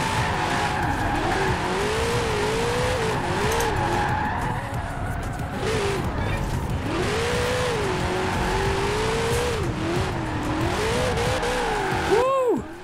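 A Studebaker in Forza Horizon 4 drives hard with a loud droning engine that rises and falls, while the tires screech and skid repeatedly through sliding turns, close and continuous.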